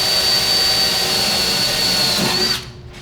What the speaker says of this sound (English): I'm going to drill these out to 7/16,